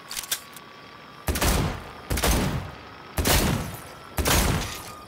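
Gunfire in the video game Cyberpunk 2077: four loud, sharp bursts spaced about a second apart, each a heavy blast with a short ringing tail, preceded by a couple of quicker clicks and pops.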